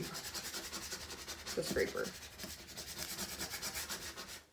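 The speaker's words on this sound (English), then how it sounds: "I flip it over and I just kind of go crazy with the scraper" Scraper rubbing and scraping across a vinyl transfer laid on wood, a steady run of rapid, rhythmic strokes heard up close, with a few brief louder bursts partway through.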